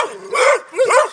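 A dog gives two drawn-out, whining barks close by during a tense encounter between two dogs, loud and alone with a brief pause between them.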